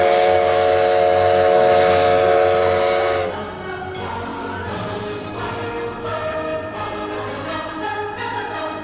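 A loud, sustained steam train whistle blares for a few seconds, then cuts off, leaving the rumbling chug of the moving train.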